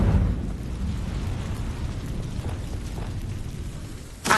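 An Incendio fire spell cast in Hogwarts Legacy gives a burst of fiery rumble at the start that settles into a low crackling roar, then a second sharp whoosh-pop right at the end, moderately quiet overall.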